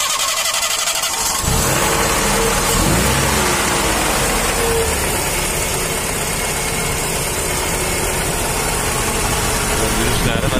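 A Ford Transit van engine starts and then runs steadily, a loud, continuous mid-pitched rumble that fills the rest of the clip.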